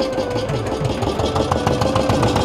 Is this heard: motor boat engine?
yes